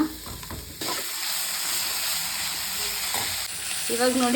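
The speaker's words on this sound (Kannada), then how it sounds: "ಈ ಈರುಳ್ಳಿ ಹಾಕಿದ್ಮೇಲೆ 1-2 ನಿಮಿಷ ಚೆನ್ನಾಗಿ ಫ್ರೈ ಮಾಡೋಣ." Onions fry in a pan with a steady, close sizzle and hiss that holds for several seconds, with a short spoken phrase at the start and a brief voice again at the end.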